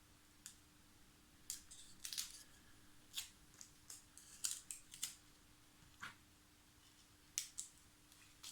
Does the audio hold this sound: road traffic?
no